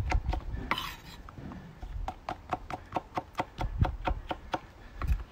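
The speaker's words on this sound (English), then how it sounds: "Slice them in half and then just chop them into strips." A kitchen knife chops cooked bell peppers into strips on a cutting board, a steady run of crisp, evenly spaced close-up knocks, with some handling clatter at the start.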